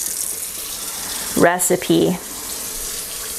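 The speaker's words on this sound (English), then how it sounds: "Just going to fill this up with water." Tap water pours steadily into a jar in a home kitchen, a constant close hiss throughout, with a short burst of talking midway.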